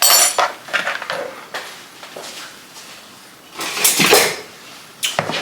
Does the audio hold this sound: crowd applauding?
no